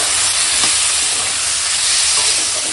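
Prawns with chilli powder, turmeric and salt sautéing in a pan, a steady loud sizzle with the scrape of stirring throughout, close and continuous.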